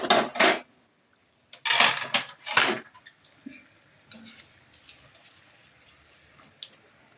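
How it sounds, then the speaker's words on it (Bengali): Fried palm pithas lifted out of hot oil with a metal utensil, giving sharp clattering scrapes and clinks against the pan in a few loud bursts, followed by quieter, scattered tapping and faint rustling. "এখন পিঠেগুলি আমি ছেঁকে নিচ্ছি।"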